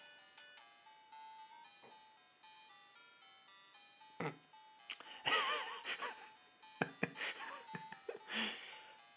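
Racing game music from a mini handheld retro arcade console plays as tinny electronic tones with steady melodic lines, joined in the second half by brief louder bursts and scattered background voices.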